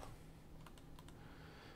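Quiet typing on a computer keyboard, a few soft clustered keystrokes clicking over a steady low background hum, with no voices.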